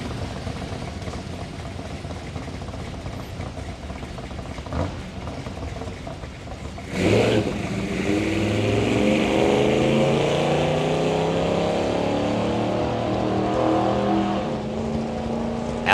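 A 1969 Chevrolet Chevelle drag car with a 406 cubic inch small block launches at a test-and-tune strip, a low distant rumble that bursts into a loud, sustained engine roar about halfway through and then fades slightly.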